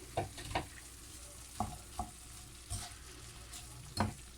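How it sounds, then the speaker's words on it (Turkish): Onions sautéing in a pan, a soft continuous sizzle punctuated by several sharp spatula scrapes and taps at irregular intervals, close but fairly quiet, no talk. "Şöyle soğanlarımı da burada bunlar da kavrulmaya başlasın."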